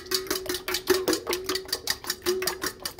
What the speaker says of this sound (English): the trick is to really beat the eggs very well and whisk them